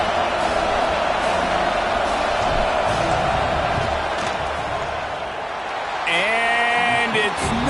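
A football stadium crowd roars in a dense, sustained wash of noise during a field goal attempt, rising loud and steady, with a short siren-like horn blaring near the end and a voice speaking over it.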